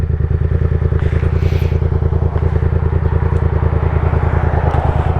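A Yamaha MT-07 motorcycle with a loud exhaust runs close by, its deep, rapid, steady engine pulse filling the whole moment without any talk.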